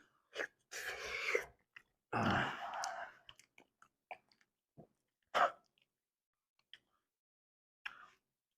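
Close, wet chewing on a bowl of oats with cinnamon: two longer bursts of mouth noise followed by scattered short clicks and smacks separated by silence.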